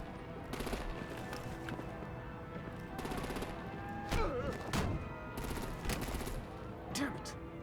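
Rapid automatic weapon fire in the Batman: The Enemy Within game, repeated bursts of crackling shots at a steady pace over a dense battle din, with thuds and impacts mixed in and faint voices beneath.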